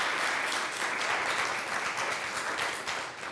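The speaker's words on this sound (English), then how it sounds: "So let's applaud them for their work and thank them for being here." Audience at a city human rights commission meeting applauds, a dense, even wash of clapping from many hands that fades slightly toward the end.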